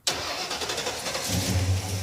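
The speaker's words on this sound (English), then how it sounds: "if you just take the wire off and jump it from here to there, you could start the car" A 1986 Pontiac Firebird Trans Am V8 cranks and catches after being jump-started with a wire, then settles into a loud, steady idle with a deepening rumble, with a faulty fuel line.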